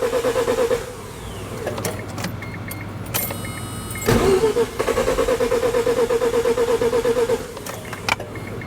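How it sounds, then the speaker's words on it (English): A Mazda RX7 engine cranking without starting, loud close starter whirring in two long bursts separated by a pause, with a rhythmic pulsing churn. "Foot on the clutch, turn the key on, crank it."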